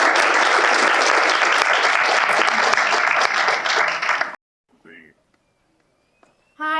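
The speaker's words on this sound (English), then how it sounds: "So please give a round of applause." A TEDx audience gives a loud, dense round of applause that holds steady for about four seconds, then cuts off abruptly into near silence broken by faint rustling and a brief voice near the end.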